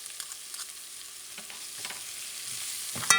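Tomato paste stirred into a sizzling base for Puerto Rican asopao de pollo, a steady faint frying hiss with scattered soft spoon scrapes and a sharper clink near the end.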